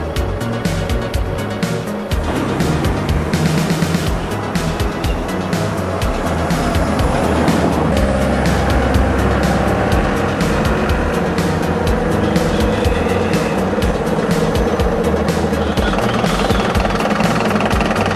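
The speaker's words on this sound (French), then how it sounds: "On reprend sa voiture, on rentre chez soi." A car engine runs steadily at close range and fills the whole stretch with a continuous broadband rumble, rising into a sustained drive after a few seconds, with no voices over it.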